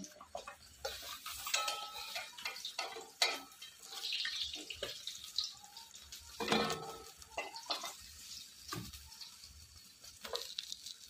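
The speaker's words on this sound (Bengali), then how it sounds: "এভাবে এখন সবগুলো মাছ ভেজে নেব।" Fish fry in oil in a pan in a home kitchen, a steady soft sizzle and crackle with scattered clinks of a utensil against the pan throughout, no voices.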